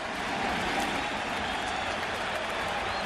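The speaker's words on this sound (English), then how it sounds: "This Shea crowd is trying to climb back into the action." Shea Stadium baseball crowd during a World Series game between the Yankees and Mets, a dense wash of applause and cheering that holds steady from start to finish, with faint broadcast voices underneath.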